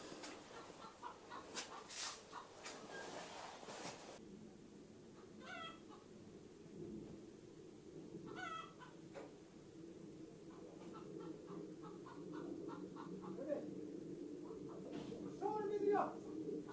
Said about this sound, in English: It wasn't the rooster, it was a chicken making an egg.